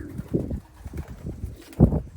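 Young racing pigeons in a loft coo in low, soft throaty bursts, several short calls close by with a louder coo near the end.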